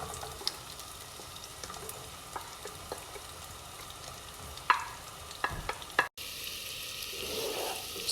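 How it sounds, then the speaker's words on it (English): Chopped onion sizzling in melted butter in a pan, a soft continuous hiss with a few sharp clinks and scrapes of stirring, close and moderately quiet, no talking. "after all the butter melted, the first thing that we can put is the onion right inside of the pan."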